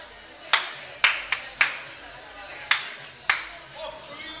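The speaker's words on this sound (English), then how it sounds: "you get somebody clapping their hands" Scattered, sharp hand claps from someone in a Hard Rock Cafe in Lisbon, about six irregular slaps over a quiet room hum, each crisp with a short echo.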